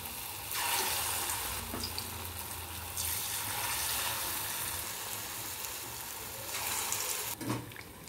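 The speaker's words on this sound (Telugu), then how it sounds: "చిన్న చిన్న పునుగుల్లాగా వేసుకోవాలండి" Small rice flour punugulu fritters frying in hot oil, a continuous close sizzle that surges in loud bursts as batter is dropped in, with a few faint clinks.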